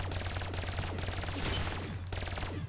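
Rapid automatic gunfire in Call of Duty: Black Ops III zombies mode, sustained bursts of close, loud shots in quick rhythm with brief gaps between volleys.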